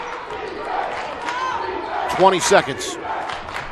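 Crowd in a high school basketball gymnasium cheers and shouts with rising intensity, loud bursts of yelling over the game's din while a commentator talks.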